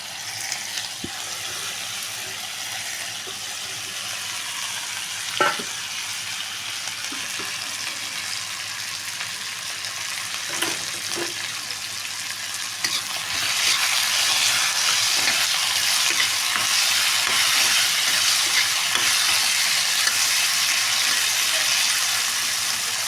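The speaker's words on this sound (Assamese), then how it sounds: "আলুখিনি অকণমান ভাজি লওঁ।" Potatoes fry in a pan with oil and salt, giving a soft, steady sizzle with occasional stirring clicks, which grows a little louder and hissier partway through.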